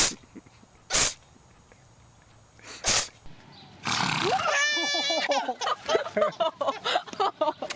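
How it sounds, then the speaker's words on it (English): Animal sneezes from a compilation of sneezing animals: two sharp, loud bursts early on, then a noisy blast followed by squeaky vocal sounds and a run of short snorty bursts, with people talking at times. "Sneeze! Big one!"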